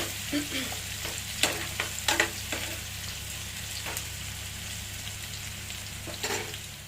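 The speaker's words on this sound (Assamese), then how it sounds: "পিঁয়াজখিনি প্ৰায় ভাজ খাইছে" Onions frying in a pan for an egg and garland chrysanthemum dish, a steady broad sizzle with a low hum beneath and several sharp scrapes and clicks from stirring, close and fairly quiet with no talking.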